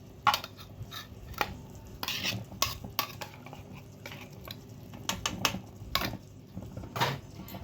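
A spoon stirs thick gravy with peanuts, sesame and cashews in a pot, giving repeated close scraping and clinking strokes at an uneven pace.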